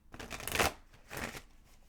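A deck of tarot cards being shuffled in two quick riffling bursts, close and fairly loud, with a brief pause between them and no talking.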